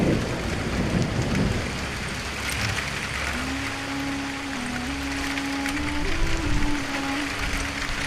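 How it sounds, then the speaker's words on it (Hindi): Heavy rain pours steadily outside in a village during a downpour, a loud continuous hiss with occasional low rumbles like thunder, while a sustained tonal melody plays over it. "बाहर यह बारिश कुछ ज्यादा ही तेज हो गई है।"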